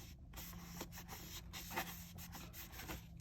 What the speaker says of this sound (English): it's very important that you give it a rub or hold, you guys, because you want to make sure that the sides are sticking